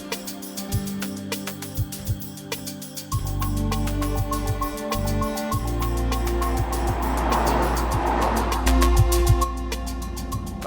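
A BMW M3 sedan or M4 coupe with a turbocharged straight-six pulls away on an open road, the engine note rising into a steady, loud drone with layered mechanical tones and some wind rush, no voices.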